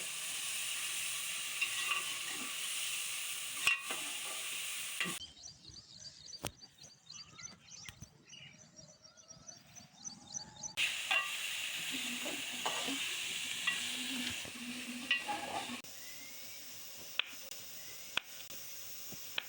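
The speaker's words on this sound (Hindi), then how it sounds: "अच्छी तरह से भूनेंगे टमाटर को।" Tomatoes and green chilies fry with browned onions, a soft hissing sizzle that drops away for several seconds, then returns with quieter stirring and occasional clicks; no speech.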